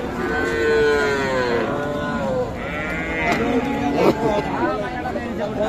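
Heifer and bull calves at a busy cattle market moo in drawn-out, wavering calls over a steady crowd murmur, with people talking nearby throughout.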